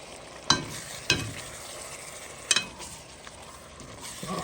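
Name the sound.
stirring meat and potatoes cooking in pot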